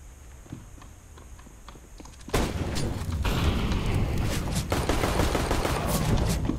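Gunfire in a shooting video game: dense, rapid bursts of shots with a loud crackling wash that breaks in suddenly after quieter game ambience and continues steadily to the end.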